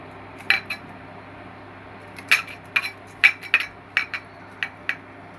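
Spoon clinking and scraping against a bowl while a ground paste is stirred together with raw mustard oil, a series of sharp taps in quick bursts, close and clear with no talk.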